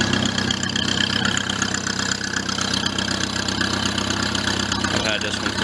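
IH 154 Cub tractor engine idles steadily in winter snow, a constant close mechanical chug and rattle running throughout with someone talking over it.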